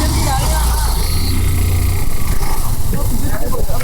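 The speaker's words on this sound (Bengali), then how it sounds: "এই যে গাড়িটা ঢুকলো" A car drives in along a hilly road in Bandarban under a loud, constant hiss and engine drone, with a person talking over the noise.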